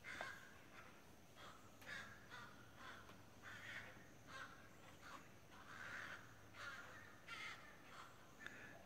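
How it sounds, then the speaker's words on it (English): Several crows fighting in the countryside caw repeatedly in the distance, harsh overlapping calls in irregular bursts over a faint outdoor background. "listening to the crows out there fight."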